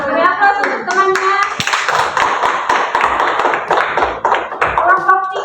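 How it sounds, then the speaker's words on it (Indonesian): A classroom of students applauds a fellow student group, a dense wash of close hand clapping that runs steadily for several seconds under voices. "Ya, aplaus untuk temannya."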